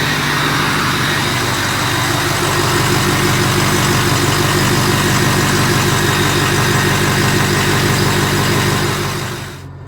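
Race truck engine idling while warming up, a loud, steady, close rumble with even vibration for nearly ten seconds before cutting off at the end, no voices.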